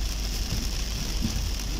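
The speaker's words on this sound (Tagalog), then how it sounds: "Ang lakas ng ulan." Heavy rain falling steadily, a constant broad hiss with a low rumble beneath and occasional heavier drops, loud and close for the whole short stretch with no talking.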